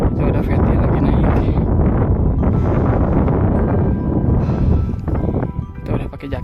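Strong gusting wind buffets the microphone on a cold, misty mountain hiking trail on Mount Guntur, a dense continuous roar that eases slightly toward the end, with faint voices in the background.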